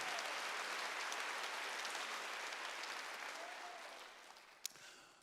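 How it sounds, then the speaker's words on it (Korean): Church congregation applauding during a Wednesday worship service, a steady wash of clapping that slowly fades, with a sharp isolated clap near the end. "박수 한번 하세요."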